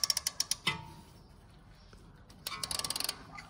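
Ratcheting wrench clicks undoing a sway bar link bolt held with a T40 Torx on a BMW X3 F25, a quick burst of close clicks, a pause, then another rapid run of clicks.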